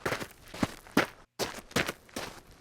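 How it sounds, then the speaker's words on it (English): Footsteps on the ground, the kind used in video game sound design, fall in a steady walking rhythm of about five distinct steps with a brief silent gap midway, close and clear with no talking. "different choices in the sound of footsteps on the ground can make an environment seem more dingy and gritty"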